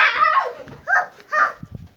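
A dog gives a few short barks and yelps in quick succession, fairly close, followed by faint thumps.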